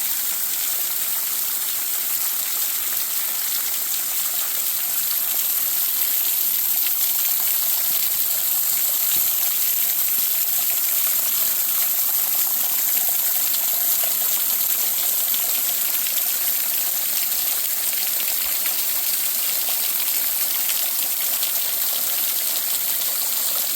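Cold stream water rushes steadily over smooth, rounded stones, a loud continuous close-up gush with no pauses and no voices.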